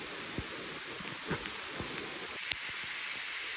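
Heavy rain pouring down on a hiking trail in the Adirondacks, a steady loud hiss of drops with a few sharper spatters and taps close by.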